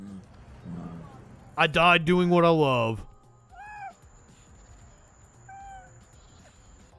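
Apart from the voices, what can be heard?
big cats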